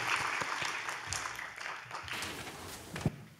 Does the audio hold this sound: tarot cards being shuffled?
no